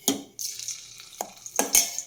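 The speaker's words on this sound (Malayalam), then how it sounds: "ഇതിനെ നമുക്ക് വറുത്തെടുക്കണം അപ്പോൾ നമുക്ക് ചട്ടിയിലോട്ടിടാം" Coated cauliflower for gobi manchurian goes into a hot pan and sizzles steadily, with a few sharp clinks of a utensil against the pan, close and fairly loud, no talking.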